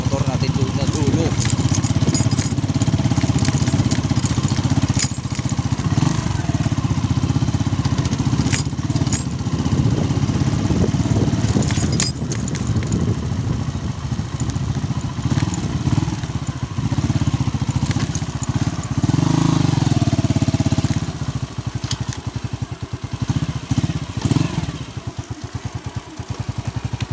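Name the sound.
motorcycle engine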